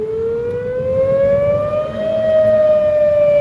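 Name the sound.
tornado sirens going off in Indiana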